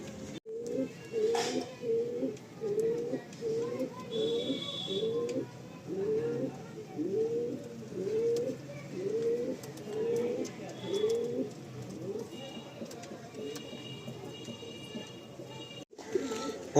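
Madrasi pigeons, a mixed set of males and females in a loft, coo in a steady run of repeated low rolling calls for most of the stretch, close and fairly loud, with no talk over them.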